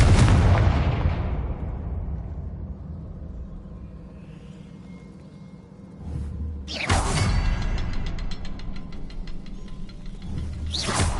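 A Confringo fire spell in Hogwarts Legacy explodes with a loud booming burst that trails off over several seconds, then another blast erupts with crackling debris and a rumbling tail, ending on a third sharp hit.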